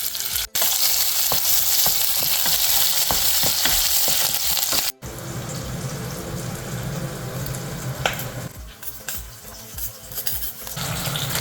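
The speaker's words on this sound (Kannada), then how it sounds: "ಫ್ರೈ ಆಗುತ್ತೆ ಚೆನ್ನಾಗಿ." Onion, garlic and peppercorns frying in a pan for Bangda fish curry: a dense, loud continuous sizzle with occasional stirring clinks, dropping to a softer crackle after a brief break midway.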